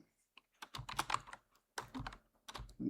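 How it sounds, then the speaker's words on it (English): Someone types data on a computer keyboard while entering database table values, quiet clustered key clicks in short bursts with brief pauses between them, fairly close and soft, with no voice over them. "type the data here and simply click on Write Changes."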